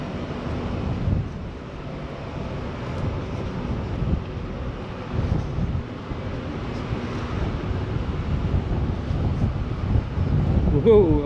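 Wind gusts along the Roman walls walk in Chester, a steady rumbling buffet against the microphone that swells toward the end, with muffled voices talking underneath.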